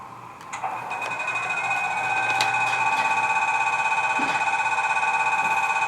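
Compressor sound function of a Roco model Swiss mountain locomotive, a steady electronic hum that settles into a fast, even pumping pulse, close and moderately loud with no voices.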